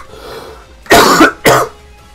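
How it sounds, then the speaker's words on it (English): Two quick, loud coughs close to the microphone, a short burst followed by a second after a brief pause, with quiet background between them. "Damn, I hate coughing."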